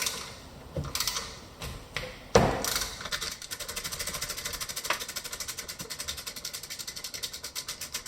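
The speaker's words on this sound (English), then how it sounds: "This little 3/8 inch drive with the pivoting head is really nice for getting back here." Clicking of a 3/8 inch drive pivoting-head ratchet working a fastener on the rear brake of a BMW E39, with a sharp clank early on and then a steady run of close, fast ratchet clicks.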